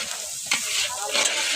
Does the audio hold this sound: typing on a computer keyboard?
no